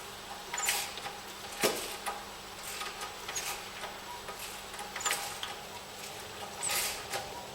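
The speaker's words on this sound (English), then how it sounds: "that's just my ratchet knocking on the edges of that hole" A ratchet knocks against the edges of a hole in the inner wing of a Perodua Kenari (Daihatsu Move) with a 1.0 three-cylinder engine during timing belt work. The taps are faint and irregular, with light rattling and scraping in a quiet space.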